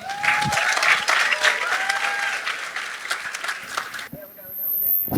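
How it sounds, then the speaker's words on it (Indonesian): Audience applause at a university inaugural lecture, steady dense clapping that fills most of the moment before thinning out, with voices in the room over it. "Kita beri aplaus sekali lagi."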